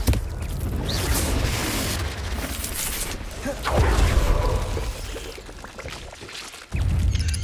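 Confringo fire spell blast in Hogwarts Legacy, a loud rushing burst with booming, pouring roar that swells midway, then drops before another blast hits; a voice calls out among the effects.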